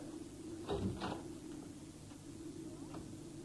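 A kitchen drawer is pulled open as a radio theatre sound effect, giving a pair of short wooden knocks and scrapes early on, then a quieter rustle over a steady low background hum.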